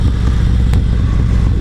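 A loud motorcycle exhaust with a new SS475 cam, running close by as one steady, heavy low rumble that fills the whole short stretch without pause or speech.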